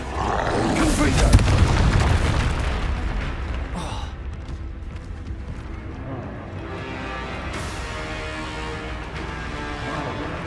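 A booming Confringo blasting-spell explosion in Hogwarts Legacy, a loud burst early on that rolls off into a lingering rumble beneath continuous game ambience.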